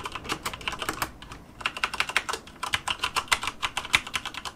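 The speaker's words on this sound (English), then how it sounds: "I got the Cherry MX red switches here, and this isn't as clicky as the blues, but it is more clicky than the browns." A Corsair K65 mechanical keyboard with Cherry MX Red switches clatters under fast, steady typing. Dense, crisp keystrokes repeat close up with brief pauses between bursts, and no voice is heard.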